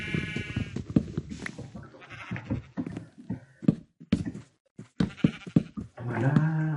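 Bleating sheep in the video game Minecraft, several wavering nasal calls spread across the scene, some overlapping, with clicky game sounds between them and a longer sustained bleat at the end.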